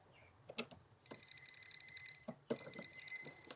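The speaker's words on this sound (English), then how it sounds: "I'll use my touchless voltage tester to identify the wires." A touchless voltage tester held near house wiring while the circuit breaker is on gives two bursts of rapid, even, high-pitched beeping, each lasting over a second, close and clear after a few faint handling clicks.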